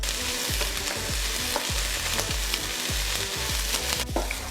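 Onions fry in oil in a heated saucepan, giving a loud, steady crackling sizzle broken by regular soft clunks as the pan is stirred, with no talking.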